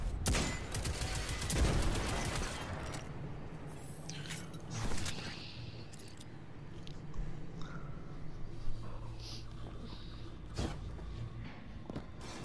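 Hand cannon fire in the video game Destiny 2, several sharp, punchy shots spaced irregularly amid clanking mechanical game effects and faint background ambience, with no speech over them.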